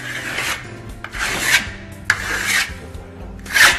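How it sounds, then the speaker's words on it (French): A trowel spreads a thin coat of Venetian lime plaster over a wall in several rasping, scraping strokes, each swelling and fading, close and fairly loud with no speech. "appliquez à la lisseuse une couche fine par zone de 30 cm de diamètre"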